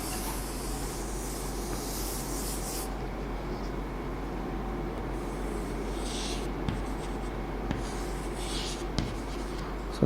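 Marker or chalk writing on a board during a plant biology lecture, steady scratchy strokes running continuously over a low room hum, with a few faint taps near the end and no speech.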